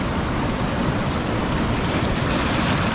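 Ocean surf at a Galveston beach jetty surges in and drains back out, a steady, loud wash of churning water with wind noise across the microphone, close and continuous without pause.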